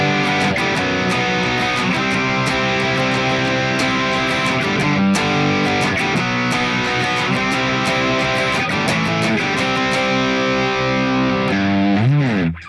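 Loud distorted electric guitar strums a steady run of major chords and power chords in driving rhythm for the first chorus of "Scotty Doesn't Know" by Lustra, ending with a bending, wavering note.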